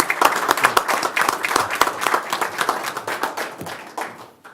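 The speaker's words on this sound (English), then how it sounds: "We have a round of applause, please." A small group at a fire board meeting claps, distinct individual hand claps forming a brief, uneven round of applause that tapers off near the end.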